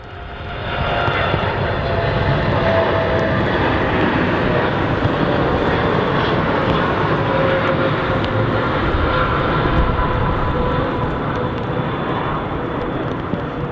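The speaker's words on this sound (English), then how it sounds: "That's an incredibly early rotation from the Dreamliner" A Boeing Dreamliner airliner takes off at an airport with a loud, steady jet roar that fills the whole stretch without letup; no one speaks.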